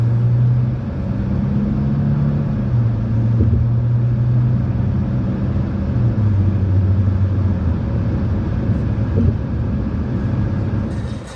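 A Hyundai car drives on a proving ground track, a steady, fairly loud rumble of engine and road noise with slowly shifting pitch as it accelerates, and no voices.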